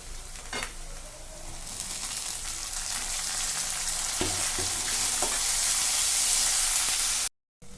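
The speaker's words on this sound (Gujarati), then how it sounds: "મેં જે ટામેટા લીધા હતા એ આમાં મેં કટિંગ કરીને રાખ્યા છે એટલે હું આમાં હવે એડ કરી દઈશ" Chopped tomatoes hit a pan of frying onions for a pea curry, a steady loud sizzle filling the clip with a few soft stirring knocks and a brief cut near the end.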